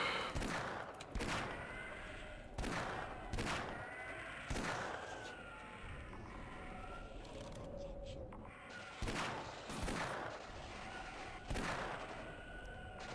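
Gunfire in the video game Half-Life, with repeated sharp shots in uneven bursts over a steady background of game noise and a voice talking.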